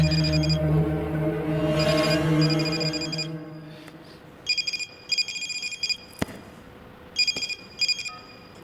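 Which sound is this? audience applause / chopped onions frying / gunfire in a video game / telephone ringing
telephone ringing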